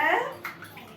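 Water splashes briefly while an animal is washed during a bath on a hot day, a short close swish following a voice speaking at the start.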